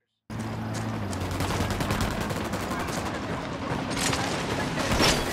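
Sustained gunfire erupting in a firefight in Ghost Recon Wildlands, a dense crackling fusillade of rifle shots close by, continuing without pause after a brief silent start.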